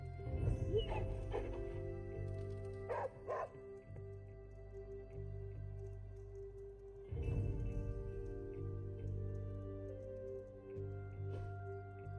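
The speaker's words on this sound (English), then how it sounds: "why the damn dogs in my room?" A dog in the video game Marvel's Midnight Suns barks and yips in a few short bursts, moderately close, over a low steady ambient hum.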